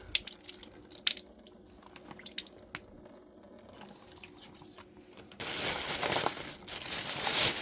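Tap water runs into a kitchen sink while cooked turkey pieces are washed, a steady hiss that starts out quiet with drips and clatter, then swells loud and close partway through.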